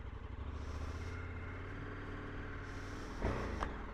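A 2024 KTM 1290 Super Adventure R motorcycle engine runs with a faint, smooth, steady hum and a brief swell near the end.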